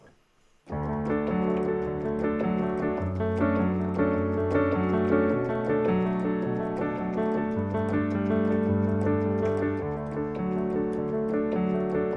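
Guitar strums the chorus chords of a song in a steady rhythm, close and moderately loud, with light ticking and string noise and no voices.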